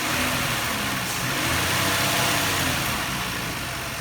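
A 2000 Nissan Maxima engine idles steadily at close range, a continuous even hum with a broad hiss over it and no change in pace across the few seconds.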